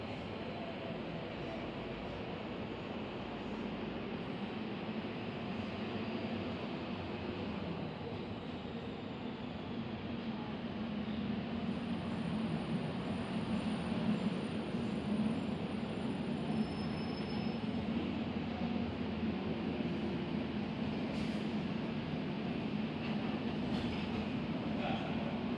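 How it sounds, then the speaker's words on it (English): An airport tram at Harry Reid International Airport, Las Vegas, rumbles steadily with a faint high squeal of wheels, the noise growing slightly louder as it approaches. "tram approaching. Please stand clear of the doors."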